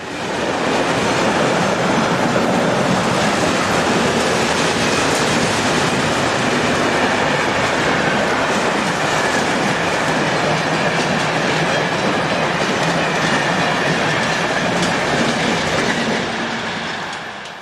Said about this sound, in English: This is one of the endangered Class 1010 locomotives, number 1010-010.